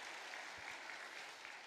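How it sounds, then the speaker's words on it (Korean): Church congregation applauding the choir after a sung Lord's Prayer during Sunday worship, a soft, even wash of many hands clapping, distant and steady with no voices. "뜨거운 박수로 격려와 감사의 표시를 하도록 하겠습니다."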